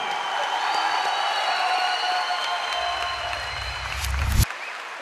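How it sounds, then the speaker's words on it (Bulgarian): A crowd at an RPC Reload Brazilian jiu-jitsu event cheers and applauds fighter Nikolay Dobrudzhanski, a steady dense roar of clapping over ringing tones, with a low rumble building and a sharp burst near the end before it cuts off. "Дами и господа, аплодисменти за Николай Доброджански!"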